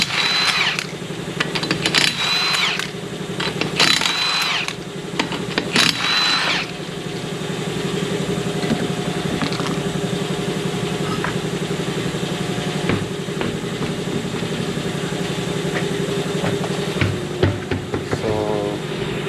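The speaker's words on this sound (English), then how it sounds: "And once again, the compressor come on, won't let me be great." An air compressor runs with a steady droning hum in a garage during a Toyota Corolla hub replacement, with a few sharp metallic clanks near the start.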